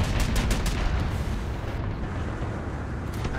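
An anti-aircraft gun in War Thunder fires a rapid string of loud, booming shots at the start, followed by a dense rumbling wash of battle noise.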